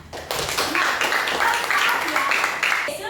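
A classroom group claps together in a steady burst of applause lasting a few seconds, fairly close and loud, with no talk over it.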